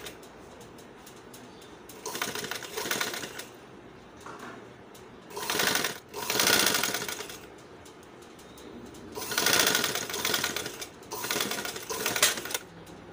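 Domestic sewing machine running a single line of stitching along the black piping edge of a small boy's kurta, heard in three separate whirring bursts with short pauses between, close and alone.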